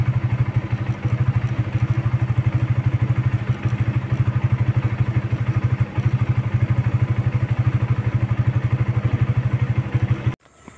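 A motorcycle engine idles close by with a steady, rapid low putter that runs unbroken, then cuts off abruptly near the end.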